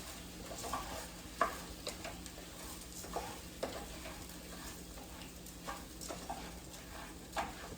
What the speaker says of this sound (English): add a cup and a half of your pearl barley in here. You wanna stir that until combined